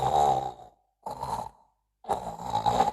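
A preacher imitates a husband snoring loudly in his sleep, giving three close, rough, snore-like breaths separated by short silences.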